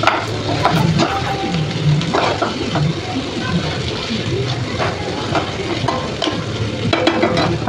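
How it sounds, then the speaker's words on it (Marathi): Boiled potatoes tumble into hot frying masala for a potato curry, setting off a steady close sizzle broken by repeated scraping and stirring of the spoon against the pan. "आता हे उकडलेले बटाटे आपण टाकून देते याच्यामध्ये।"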